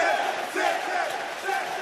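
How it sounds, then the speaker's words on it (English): Crowd noise from a football stadium during a Leicester City versus Manchester City cup match, with a broad, steady roar of applause and shouting filling the ground and swelling slightly in waves. "applause breaking out all round the ground"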